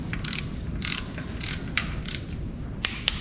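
A ratchet torque wrench tightens bolts on a 6.0 LS engine: short bursts of rapid metallic clicking, repeated about six times, close and clear with no talk.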